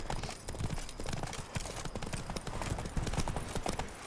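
Horse hooves clip-clop in a quick, steady rhythm in the video game The Witcher 3: Blood and Wine, fairly close and continuous throughout, with faint voices in the background.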